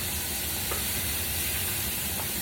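Ingredients for a rustic potato and sausage soup sauté in a pot, making a dense, continuous close sizzle and hiss with faint stirring and no voices.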